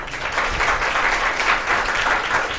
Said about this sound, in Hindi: देखो ताली बजा रहा है, तुम लोग ताली नहीं बजा रहे हो यार।